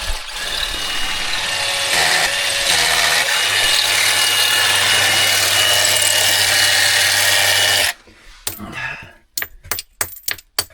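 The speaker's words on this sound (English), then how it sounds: "that's a tiny hammer for a big bolt" In an Alabama cave dig, a steady, loud power-tool whine runs for several seconds, then cuts off and gives way to a handful of sharp, close metallic taps as a small hammer drives a bolt into rock.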